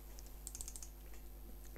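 Quiet, quick keystrokes on a computer keyboard form a short burst of light clicks close to the microphone, with a faint low hum underneath.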